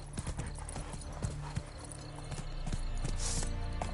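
Roach the horse galloping in The Witcher 3, with rapid rhythmic hoofbeats, close and steady, over a constant game background that grows louder toward the end.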